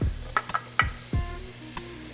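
Chopped onions drop into melted butter in a large frying pan, hitting with several sharp, close sizzling bursts and clattering pan knocks in an irregular rhythm, each settling into a soft hiss.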